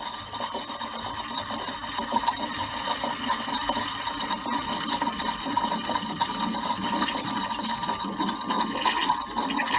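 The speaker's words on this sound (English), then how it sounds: "we're going to let all of the vinegar drain out into the bucket" Vinegar draining from a water heater into a bucket, a steady continuous splashing and rushing pour heard close up for the whole stretch, with no talk over it.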